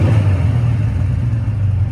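A motorcycle engine, just restarted after its idle screws were adjusted and not yet fully warm, gives a deep, steady throbbing rumble up close, with no talking.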